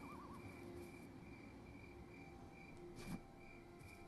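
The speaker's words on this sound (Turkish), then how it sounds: "Bora bu cırcır böcekleri yeni mi geldi ya?" Crickets chirp steadily in the horror video game Granny 3, a faint continuous insect trill with a brief louder knock near the end.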